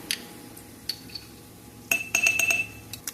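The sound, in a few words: spoon clinking glass jar while adding minced garlic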